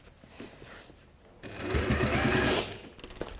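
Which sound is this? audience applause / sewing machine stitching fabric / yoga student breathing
sewing machine stitching fabric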